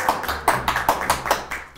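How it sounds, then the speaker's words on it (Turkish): Applause for two students at a school gathering: a short burst of rhythmic hand clapping, a few claps evenly spaced, fairly close and clear with no talking. "Bir alkışlayalım mı onları?"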